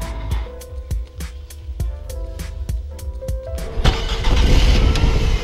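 A car engine starts and runs nearby, a series of sharp mechanical knocks giving way to a louder, broad rumbling roar toward the end, with no talking over it.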